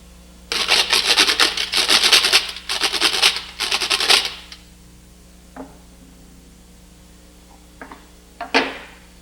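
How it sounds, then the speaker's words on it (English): A kitchen grater is scraped vigorously in four rapid rasping bursts, followed by a few faint, scattered knocks and taps near the end. "grater"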